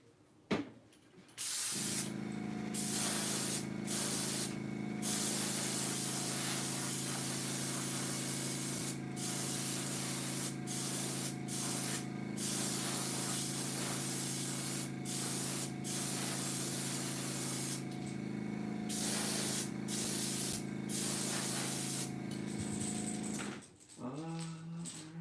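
An airbrush sprays paint onto crankbait fishing lures in a steady, continuous hiss that runs almost the whole clip, close and loud, with a few brief pauses near the start and end.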